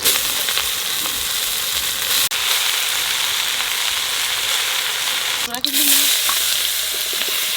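Leafy greens frying in oil make a loud, dense, close sizzle that continues throughout, broken by a couple of sharp clacks and a brief stirring scrape.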